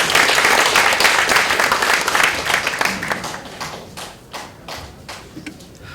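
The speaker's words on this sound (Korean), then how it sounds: "큰 박수로 맞이해 주십시오." An audience at a North Korean human rights forum claps to welcome a speaker, loud dense applause at first that thins out and tapers off toward the end, with no talking.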